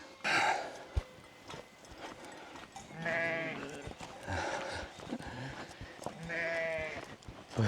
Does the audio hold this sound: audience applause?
no